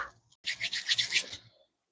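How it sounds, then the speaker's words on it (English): A short, close scratchy rubbing sound, gritty and brushing, lasting about a second before stopping. "Rub on my crystals"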